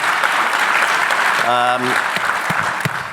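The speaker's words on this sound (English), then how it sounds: "big round of applause to HITRUST and bringing us all together" Keynote audience at the HITRUST Collaborate 2024 conference applauding, a continuous loud wash of clapping with a brief tonal voice cutting through midway.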